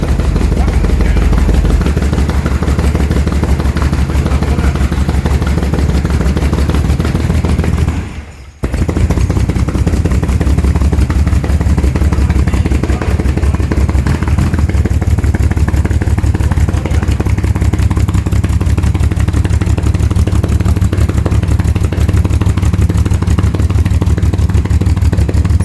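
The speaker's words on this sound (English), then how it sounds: "I am sure we're going to get this engine running very soon." A 1938 SS Jaguar 3½ litre engine runs after more than 50 years of standing, a loud steady rumbling idle with rapid clattering that briefly cuts out, then resumes running continuously.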